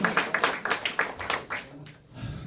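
A small stand-up comedy club audience in New Jersey claps, giving rhythmic, fairly close applause that fades out after about a second and a half, leaving quiet room noise.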